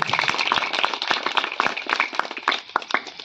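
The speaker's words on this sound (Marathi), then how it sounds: "सर्व टाळ्या वाजवायचे." A crowd at a Diwali celebration in Ambivali Khadakpada applauds, with dense, steady hand clapping close by that carries on for a few seconds and thins slightly toward the end.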